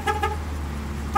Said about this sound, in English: Stop honking the horn!